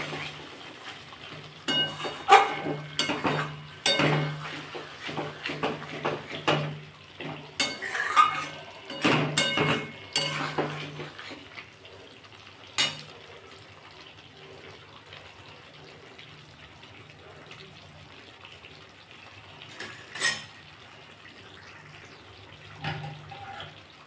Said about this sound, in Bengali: আমি এবার এতে একটু গরম জল দিয়ে দেবো